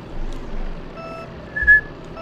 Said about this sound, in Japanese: 今口笛で上手くない？